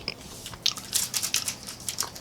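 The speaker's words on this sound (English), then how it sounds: "I'm still chewing on that toffee bar" Toffee bar from a Danish MRE being chewed close up, a string of sticky crunching bites and chews in irregular rhythm, with no voices.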